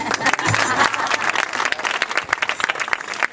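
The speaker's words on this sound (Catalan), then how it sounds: "Podeu aplaudir també?" Crowd applause at a campaign rally in Santa Pola, many hands clapping in a lively, uneven burst that stays loud and close from start to finish.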